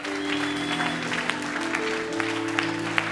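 An audience at a church sermon on the birth of Jesus breaks into applause that stays steady and dense for a few seconds, with a sustained musical tone underneath.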